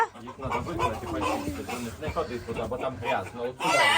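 A person imitates a hen's clucking with repeated short vocal clucks, mixed in with other speech and voices, loud and close.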